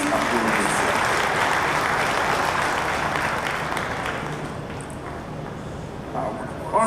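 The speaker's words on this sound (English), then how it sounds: "Please applaud yourself." A large audience at an election results event in Pretoria claps in sustained, dense applause that slowly fades, with a voice coming in briefly at the end.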